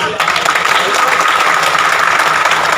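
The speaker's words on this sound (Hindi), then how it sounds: "एक बार जोर से ताली होनी चाहिए।" Dense, loud applause from an audience at a World Indigenous Day (Vishwa Adivasi Diwas) event, a steady wash of many hands clapping continuously throughout.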